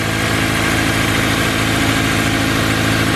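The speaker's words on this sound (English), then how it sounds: "Let it warm up, let it idle down." A Honda S2000 engine idles steadily as it warms up, a smooth, even hum that stays loud and close for the whole stretch with no voices over it.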